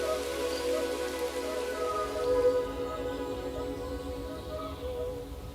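Steady rainfall pattering on surfaces, a soft continuous even hiss at moderate distance, with no voices.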